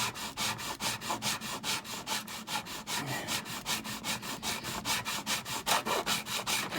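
Wood is sanded by hand in quick, regular back-and-forth strokes, a close, rhythmic scratchy rasp repeating about three times per second throughout, with no talking.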